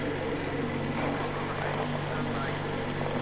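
Steady drone of a boat engine idling in the Metro Exodus video game, a continuous low hum with fixed tones that stays level throughout, with game ambience mixed in.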